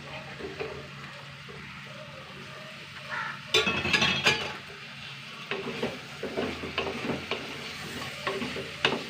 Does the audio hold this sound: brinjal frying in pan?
yes